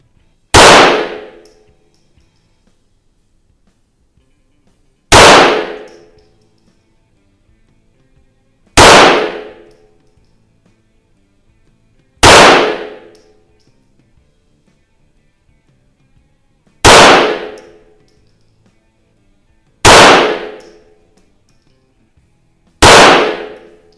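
A 1920 Reising .22 auto pistol fired at a range, with loud single shots ringing off steel targets. Seven sharp, bright clangs come at steady intervals of a few seconds, each followed by a quick decay.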